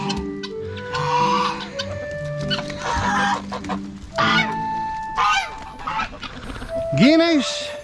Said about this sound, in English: Look at the guineas.